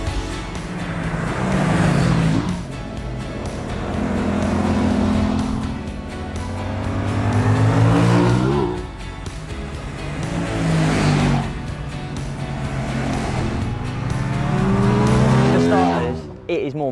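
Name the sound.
Aprilia RS 660 motorcycle riding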